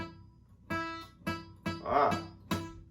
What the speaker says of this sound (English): So I'm getting a little buzz there